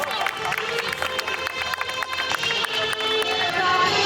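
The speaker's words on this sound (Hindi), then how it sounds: "जोरदार तालियां" Crowd at a school annual sports day breaks into loud, sustained applause and cheering, a dense continuous wash of clapping that holds steady and swells slightly toward the end.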